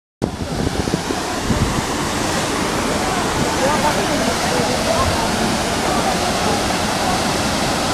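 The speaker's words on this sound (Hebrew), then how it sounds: "מפל התחנה בנחל עיון. איזה יופי. איזו זרימה." The Tahana waterfall in Nahal Iyun, a nature reserve, flows with a loud, continuous roar and rush of falling water that starts abruptly and holds steady, with wind buffeting the microphone near the start.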